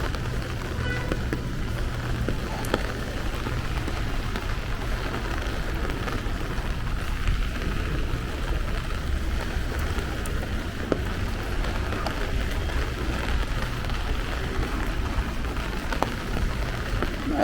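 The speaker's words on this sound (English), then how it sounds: "At least I get you guys a nice rain walk." Steady rain falls on a Brooklyn street in Crown Heights, a continuous close hiss of drops on pavement with a low city rumble beneath and no voices.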